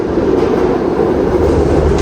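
A train rumbles steadily along the tracks, a continuous low droning roll with faint rhythmic clatter, close and fairly loud throughout.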